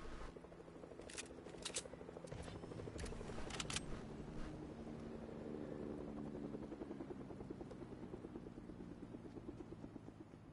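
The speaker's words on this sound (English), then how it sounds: "Helicopter." A helicopter flies overhead in a steady, faint rotor drone that holds throughout, with a few brief clicks and rattles near the start and no talk.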